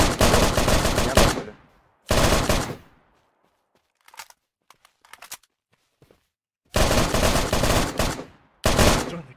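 Automatic gunfire in the video game Unturned, long loud bursts of rapid shots separated by quiet gaps with a few scattered single shots and clicks between.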